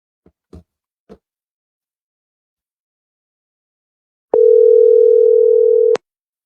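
A steady electronic dial tone from a phone during a WhatsApp call rings out loud and unbroken for about a second and a half, preceded by a few faint taps.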